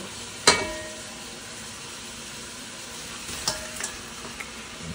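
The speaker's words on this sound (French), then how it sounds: "Maintenant, tu peux ajouter les fruits de mer." Seafood being added to a soup pot in a kitchen and stirred, with a sharp clatter near the start, a quieter clink later and a soft, steady sizzle-like wash throughout; no voices.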